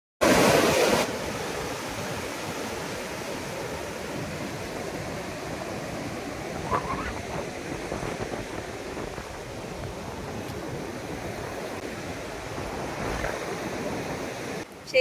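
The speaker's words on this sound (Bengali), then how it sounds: "সমুদ্র।" Sea waves wash steadily onto the beach at Chandipur, Odisha, a continuous broadband surf roar with gentle swells and no clear voices.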